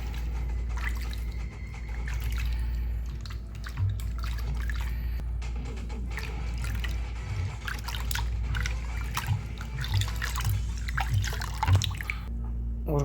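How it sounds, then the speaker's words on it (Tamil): Water poured into ragi (finger millet) flour and stirred, heard as close, continuous trickling and dripping with soft wet splashes over a faint background hum. "1 கப் மாவுக்கு 2 கப் தண்ணி ஊற்றிக்கிறோம்"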